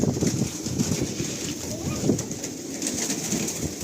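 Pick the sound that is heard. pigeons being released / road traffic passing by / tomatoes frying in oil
pigeons being released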